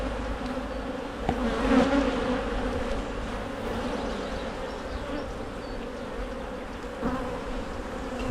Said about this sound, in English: so there's a good quantity of bees in here